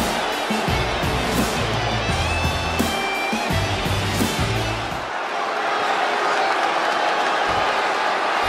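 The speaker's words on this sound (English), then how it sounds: "it sounds to me like the crowd is more than ready for this one" An arena crowd in the wrestling game WWE 2K20 roars and cheers, a dense continuous crowd noise with bursts of music-like thumps early on, fading slightly then building again.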